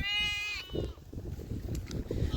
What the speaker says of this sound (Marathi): मेंढ्यांच्या मध्ये गाया देखील आहेत आणि आजूबाजूला भरपूर अशा मेंढ्या आहेत